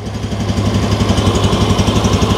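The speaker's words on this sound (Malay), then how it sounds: "macam nilah bunyi dia dalam keadaan idle" A 2023 Yamaha EZ115 scooter engine idles steadily close by, a fast even putter with a light rattling vibration.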